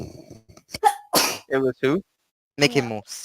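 A single abrupt sneeze bursts out in the middle of relaxed conversation among several people talking nearby.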